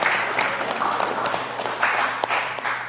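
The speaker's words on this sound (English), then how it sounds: "clap it up" Audience clapping during a conference session on analytics and data collection, a dense roomful of hands sounding steadily for about three seconds with no speech over it.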